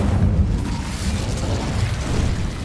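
A fire spell, Incendio, cast in the Hogwarts Legacy video game inside a cave bursts out as a loud, steady roaring rumble that holds without a break throughout.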